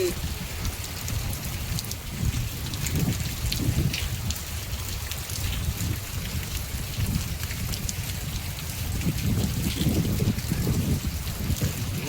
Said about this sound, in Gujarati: વરસાદ અત્યારે વસી રહ્યો છે મિત્રો.